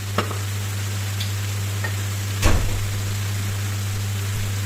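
Chilli and turmeric powder frying in hot oil, a steady soft sizzle throughout with a brief louder hiss and clatter of a spoon stirring midway, a few light taps, no talk.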